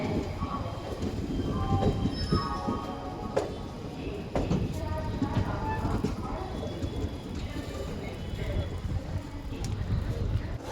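The Malda Town–Howrah Intercity Express pulls into Howrah Junction with a continuous rolling rumble of railcars and faint wheel squeal, loud and close throughout.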